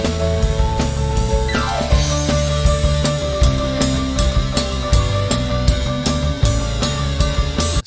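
A pianist plays during a live band performance; the keys ring through a loud, dense full-band mix with steady drum hits and bass, running continuously for the whole stretch.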